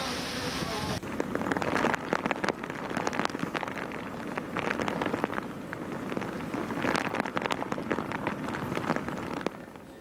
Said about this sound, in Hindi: यहां तेज बारिश के साथ हवाओं की रफ्तार से भी दहशत बढ़ती जा रही है।